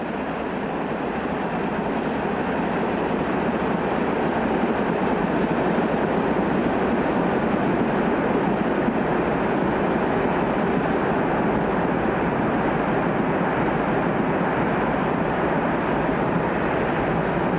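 A train on the Alps line near Grenoble, clinging to a mountainside between Vercors and Trièves: a steady, loud, continuous rolling rumble with a broadband roar, heard close and unbroken throughout.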